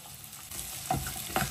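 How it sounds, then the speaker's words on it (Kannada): Shallots, garlic and ginger fry in hot oil for a fish curry, a steady close sizzle with two sharp stirring scrapes near the end, no voices. "ಈ 3 ಐಟಮ್ನು ಎಣ್ಣೆಯಲ್ಲಿ ಸಾಂಬಾರ್ ಈರುಳ್ಳಿ, ಬೆಳ್ಳುಳ್ಳಿ, ಶುಂಠಿ ಅಷ್ಟನ್ನು ಎಣ್ಣೆಯಲ್ಲಿ ಫ್ರೈ ಮಾಡೋಣ"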